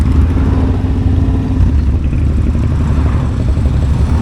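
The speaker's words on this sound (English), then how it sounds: "Whoa, dry clutch Ducati there." A Ducati motorcycle with a dry clutch runs close by during a vintage-style charity motorcycle ride in Edinburgh, its loud, throbbing engine rumble steady and heavy throughout, with a faint clattering texture.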